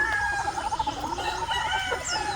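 Chickens in a small backyard coop, several birds clucking and calling close by in short overlapping bursts, with faint background noise and no talking.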